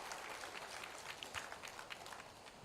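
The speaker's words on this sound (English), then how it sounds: "A huge round of applause for his dynamic speech." Applause from an audience after a speech at a tourism trade event, heard as a faint, continuous patter of clapping throughout.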